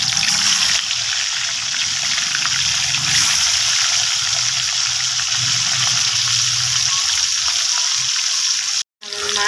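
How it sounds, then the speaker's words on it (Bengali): Fish sizzling as it goes into hot oil in a pan for a Bengali fish and potato curry, a steady broadband hiss and crackle running loud and close throughout, with a brief cut near the end. "তেলটা আমার গরম হয়ে গেছে। এখন আমি মাছটাকে ছেড়ে দেবো।"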